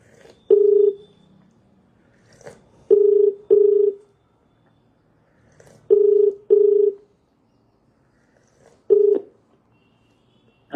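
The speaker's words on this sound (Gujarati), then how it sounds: "બેન, ચાલુ રાખજો ફોન, એ હોલ્ડ પર મૂકી દેશે." A phone call placed on hold gives off short, steady electronic beeps, first a single tone and then repeated pairs, clear and close with quiet gaps between them and no talking.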